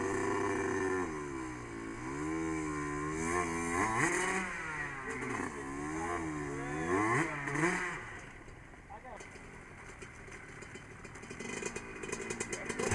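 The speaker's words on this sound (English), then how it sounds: "That's a tough bike to ride up there." A motorcycle engine revs and strains climbing a steep hill on a dirt road, rising and falling pitch over several seconds, close and fairly loud, with voices talking over it before it fades toward the end.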